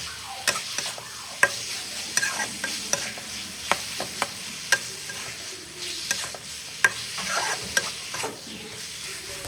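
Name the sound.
stir-frying onion and green chilies in a pan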